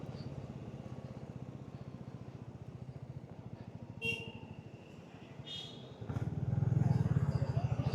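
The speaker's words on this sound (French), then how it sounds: "Oh là, il y a un camion qui déboule." A truck rushes past on a street in Little India, Singapore, over the steady, even thumping of an idling Royal Enfield Bullet 350. A heavier rumble swells up near the end.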